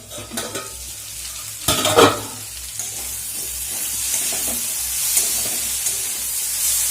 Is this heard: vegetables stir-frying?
yes